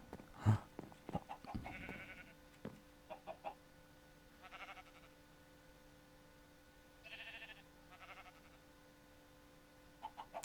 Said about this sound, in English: So you've got sheeps on that side, and the chickens on that side.